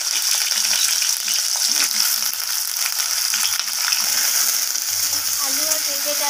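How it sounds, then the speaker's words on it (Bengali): Potato and papaya pieces fry in hot mustard oil with a loud, close, continuous sizzle, with occasional stirring scrapes and faint background voices. "আলু আর পেঁপেটাকে তেলের মধ্যে দিয়ে নাড়াচাড়া করে হালকা হালকা করে ভেজে নিতে হবে।"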